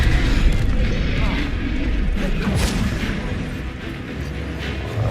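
Repeated explosive spell blasts in the video game Hogwarts Legacy, dense booming impacts and rumbling over a continuous busy game soundscape.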